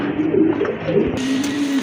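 Pigeons kept for sale, including big Baghdadi birds, give low, rolling coos that repeat steadily and close by, with no voices over them.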